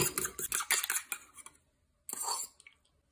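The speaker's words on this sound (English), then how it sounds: "Just going to give that a little beat first." An egg beaten in a bowl with a fork or whisk, a quick run of rapid clinking taps against the bowl, a pause, then a short final burst of scraping strokes.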